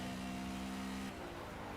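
A race car in Project Cars at Hockenheim, driven on cold tires, its engine holding a steady mid-range drone close by, then shifting and dropping in pitch near the end.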